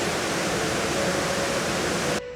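A waterfall in southern Mexico roars with a dense, steady rush of falling water and mist, loud and close, cutting off abruptly at the end with no talking.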